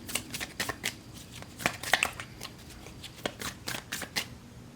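Tarot cards are shuffled repeatedly at close range, quick riffles and soft card slaps in an irregular rhythm with no voices.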